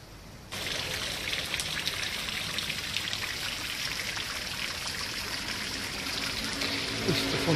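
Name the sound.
water of a fountain at night in Rome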